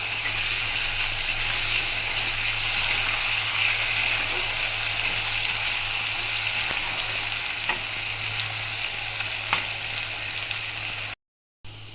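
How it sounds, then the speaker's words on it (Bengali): Small cut potato pieces fry in hot oil for a crab curry, a continuous bright sizzle and crackle with occasional stirring, steady and close, with no talking. "এবার টুকরো টুকরো করে আলু কেটে নিয়েছিলাম ছোটো ছোটো করে, এটা দিয়ে দিচ্ছি। আলুটা কিন্তু ভালো করে ভেজে নেব।"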